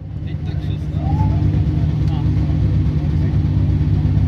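A car fitted with an Armytrix exhaust and its valves open idles and then swells as the engine builds revs at a car meet, with a steady, close exhaust rumble and voices nearby.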